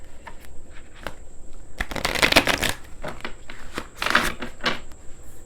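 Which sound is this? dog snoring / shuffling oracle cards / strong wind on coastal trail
shuffling oracle cards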